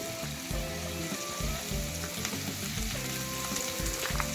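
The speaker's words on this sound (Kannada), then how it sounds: "ಇದನ್ನೆಲ್ಲ ಚೆನ್ನಾಗಿ ಗೋಲ್ಡನ್ ಬ್ರೌನ್ ಕಲರ್ ಆಗೋವರೆಗೂ ಫ್ರೈ ಮಾಡ್ಕೋಬೇಕು" Garlic, green chillies, coriander leaves and cashews fry steadily in hot oil in a pan for a paneer masala, a dense, continuous close sizzle with crackling pops throughout and no voices.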